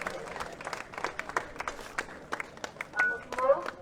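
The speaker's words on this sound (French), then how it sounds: "Applaudissez, s'il vous plaît." At an outdoor street march against violence, a crowd gives scattered, moderately distant applause, individual claps audible as loose bursts rather than a dense roar, with brief murmurs and a faint whistle-like tone near the end.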